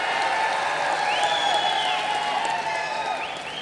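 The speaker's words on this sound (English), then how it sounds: "Keep those claps going for the megastar," A dense crowd applauds and cheers in a big hall at the 2022 International Film Festival of India in Goa, greeting the star Chiranjeevi. The clapping is loud and continuous, with whoops rising above it, and it fades slightly near the end.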